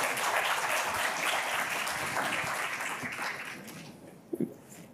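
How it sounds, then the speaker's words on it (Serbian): An audience applauds at a business talk: dense, steady clapping that fills the room, then thins and fades, ending with a couple of louder, isolated claps. "Može jedan aplauz."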